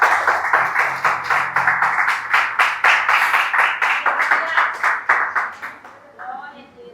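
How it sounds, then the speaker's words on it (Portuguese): Church congregation clapping together in a steady rhythmic beat, loud and close, with a voice speaking over the claps before they fade out near the end. "Se puder aplaudir o Senhor"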